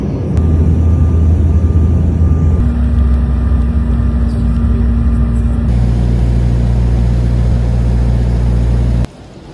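Inside an airplane cabin before landing, a loud, steady engine drone fills the space and shifts pitch in distinct steps as power changes, then drops away suddenly near the end, with no talking.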